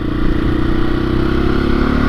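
A 2021 KTM 500 EXC-F motorcycle engine runs steadily while being ridden around town, a continuous close mid-range drone with a slight clatter and no speech.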